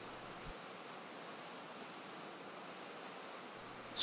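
Steady broadband rush of the Eisbach, an artificial river in Munich's English Garden forming a standing wave near a bridge; continuous, even roar of churning water with no voices.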